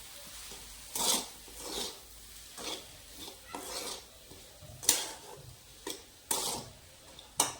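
A spoon stirs semolina idli batter with spices and salt in a bowl, giving about a dozen separate scraping, clinking strokes in an uneven rhythm, close and fairly quiet with no talking.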